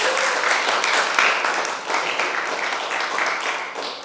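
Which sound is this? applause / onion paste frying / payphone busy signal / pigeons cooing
applause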